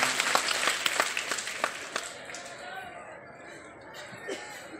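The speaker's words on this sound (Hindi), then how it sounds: "विमोचन हुआ, तालियां अवश्य बजनी चाहिए।" An audience claps at a book launch during a public event in Nayadih, Deoghar, with scattered claps and crowd chatter that fade after about two seconds into a quieter murmur.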